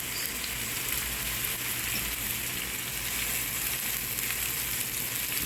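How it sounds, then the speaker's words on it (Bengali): Chopped onions frying in olive oil with salt, a loud, dense, continuous sizzle that holds steady throughout, close up with no talk. "পেঁয়াজটা বাদামি করে ভেজে নিব।"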